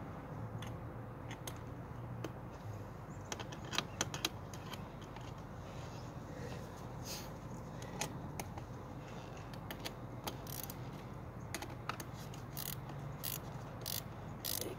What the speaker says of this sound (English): So we take our two 10 mil wrenches and we start wrenching.